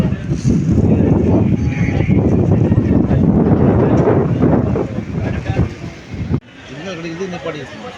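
A loud, steady rumble of a moving train running from Coimbatore toward Ottapalam via Shoranur, with a rushing, windy roar, heard close up. The rhythm of the wheels is buried in the noise and it ends abruptly.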